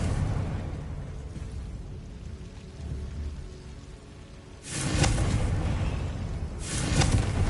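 A Confringo fire spell from Hogwarts Legacy erupts in two loud, broad bursts, each a roaring blast with a crackling tail, rising out of a quieter rumbling background.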